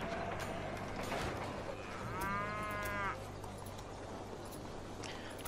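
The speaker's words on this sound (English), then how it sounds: "Moo moo, says the cow." A cow moos in the railroad strategy game Railway Empire, a single drawn-out moo about two seconds into a busy ambient game soundscape, faint under ongoing background noise.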